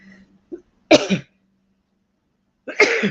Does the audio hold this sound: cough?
yes